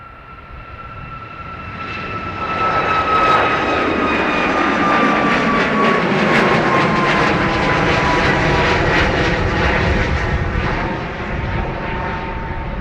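An airliner taxis along the runway at Dublin Airport, its engines rising from a distant whine into a loud, sustained roar with a high tonal whistle, then easing slightly toward the end.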